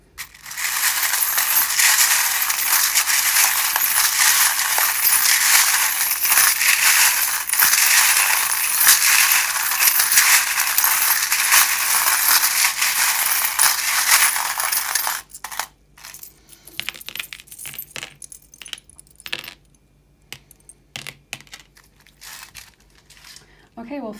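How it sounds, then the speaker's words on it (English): Loud, continuous metallic jingling and clattering of small tarot-reading charms being shuffled, then scattered clinks and rustles after it stops. "if you don't like the sound of the charms"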